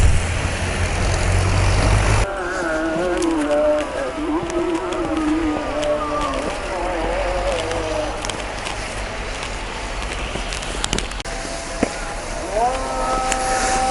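A tractor clears snow in Yozgat during heavy winter snowfall, its engine humming with shifting, wavering tones at a steady moderate level, and a louder rush of wind noise at the start.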